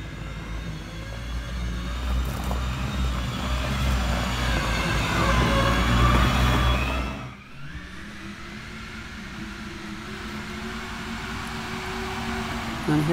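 A homemade inflatable Sherp-style vehicle driving over ice and snow, its loud motors droning steadily and close, then dropping abruptly to a lower, quieter hum as the throttle eases.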